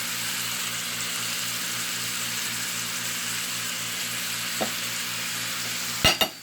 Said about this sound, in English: Now I'm going to throw in the white onions.